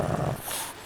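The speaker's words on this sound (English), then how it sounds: "What is that beast? That's a dog, Oscar," A dog growls low and close for a brief moment, the rumble fading out after a fraction of a second, with no talk over it.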